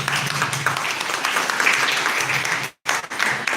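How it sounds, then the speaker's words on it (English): A school audience applauds steadily for finalists with dense clapping, then the clapping cuts out briefly before resuming. "let's give another round of applause for our finalists"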